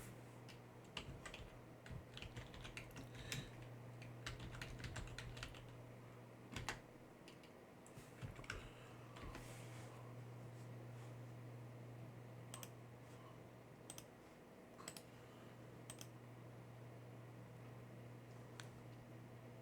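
Linux commands are typed on a computer keyboard in an otherwise quiet room, with irregular bursts of close key clicks over a steady low electrical hum and no talking.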